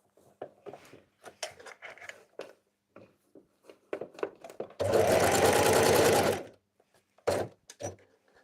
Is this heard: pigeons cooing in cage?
no